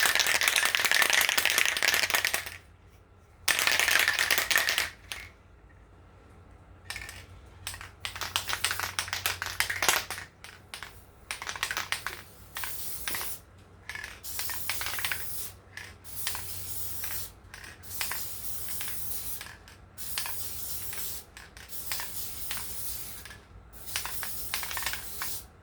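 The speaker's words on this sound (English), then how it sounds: "So I'm going to shake our can up." Spray paint can rattled by shaking, then sprayed onto an epoxied stainless steel tumbler in bursts, with loud hissing spurts separated by short pauses and quick rattling between them, close up and with no talk.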